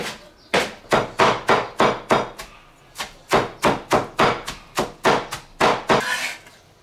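A knife chops squeezed cucumber on a cutting board in two quick runs of sharp, rhythmic thuds, about a dozen strikes in each run with a short pause between, close and clear, with no talking.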